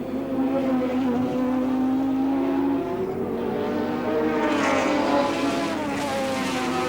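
Allan Moffat's race car at Oran Park in 1983 holds a loud, sustained engine drone with a rising then shifting pitch as it runs through the Grand Prix circuit, clear and close.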